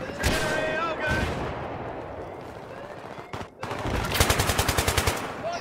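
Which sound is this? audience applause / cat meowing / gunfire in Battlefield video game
gunfire in Battlefield video game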